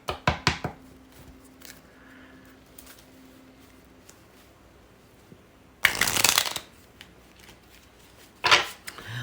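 Tarot cards from a Thoth deck are shuffled close by in three separate riffling bursts, with quiet handling between them and the last burst short.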